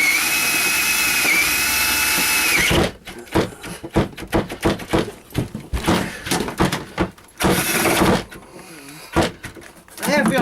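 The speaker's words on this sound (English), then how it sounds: "I'm going to have to hold the drill this way" A power drill bores into a camper trailer floor. A steady high whine gives way to choppy bursts of grinding and clunking, with knocks as it strikes the frame, close and loud, while a person talks.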